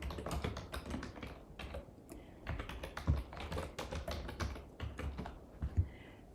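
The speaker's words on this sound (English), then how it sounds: "I'm typing this in our room." Rapid, irregular clatter of keys on a computer keyboard, close and moderately loud, with occasional heavier thumps of the space bar.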